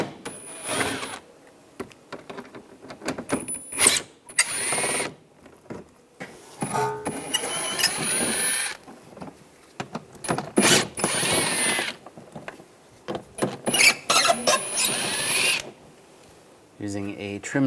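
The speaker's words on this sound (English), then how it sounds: "Using an 8mm socket, we're going to take these screws out." Screws come out of a 2013-2016 Dodge Dart front inner fender liner with an 8mm socket, heard as intermittent close whirring and ratcheting bursts separated by quiet gaps, with clicks and handling noise between them.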